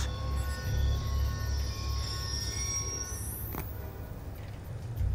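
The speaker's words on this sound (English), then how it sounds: "Ain't getting anything else with that train in the way." A train rolls past in the Call of Duty: Black Ops 2 video game, a steady rumble with a long rising metallic wheel squeal that sweeps upward, loud and close without speech.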